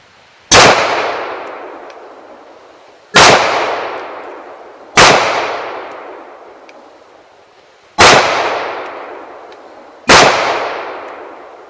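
Five loud, sharp gunshots from a Kahr CW9 9mm pistol, spaced roughly two to three seconds apart, each a hard crack followed by a fading ring, with no talking.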